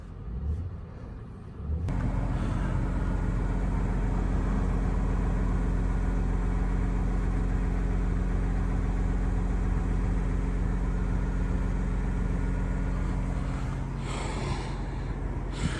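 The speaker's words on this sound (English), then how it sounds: "That's a lovely sound. It's a lovely V6 sound." A 2022 Bentley Bentayga Hybrid's V6 engine idles at close range, a steady, smooth, low hum that starts abruptly after two seconds of quiet and holds evenly before easing slightly near the end.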